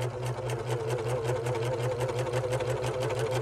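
A serger sewing machine runs steadily at close range, its rapid, even mechanical chatter continuing without a break and without voices.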